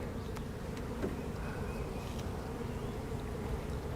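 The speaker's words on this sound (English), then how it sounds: "I see bees across all frames." Honey bees buzzing in an open beehive during an inspection, a dense continuous hum close by with individual bees droning past now and then.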